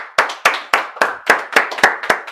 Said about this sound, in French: On applaudit Bruno.